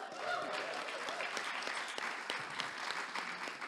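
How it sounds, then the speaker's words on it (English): A church congregation breaks into steady, dense applause, a continuous wash of many hands clapping together that holds evenly for a few seconds at moderate distance. "We're clapping to just honor their time as well."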